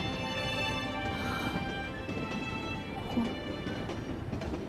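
Steady rumble and rhythmic clatter of a moving passenger train heard from inside a carriage, continuous and fairly close, with no one speaking.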